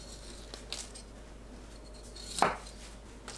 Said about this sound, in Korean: 씻은 브로콜리는 너무 크지 않게 자릅니다.